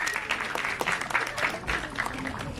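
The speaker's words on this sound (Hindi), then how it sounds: "एक बार जोरदार ताली होनी चाहिए अनुराग के लिए।" Loud applause from an audience at a film song launch event, steady broadband clapping filling the room for a couple of seconds, with some voices mixed in.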